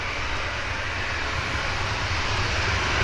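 Ryanair airliner taxiing onto the active runway at Manchester Airport, a steady, broad engine roar and hiss that stays constant and fairly close throughout.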